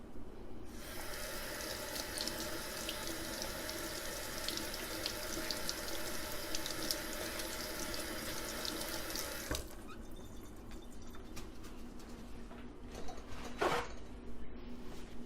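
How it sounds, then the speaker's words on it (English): Warm tap water runs steadily from a faucet into a sink while an oil paint brush is rinsed, a continuous close splashing stream that thins out partway through, with a few brief knocks toward the end. "rinsing it again with warm water"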